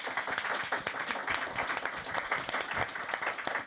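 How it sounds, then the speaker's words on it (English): Scattered, fairly quiet applause from a small audience at a Davos women's business panel, with individual claps distinct and irregular rather than a dense roar, lasting a few seconds. "if you can give a round of applause for our panelists."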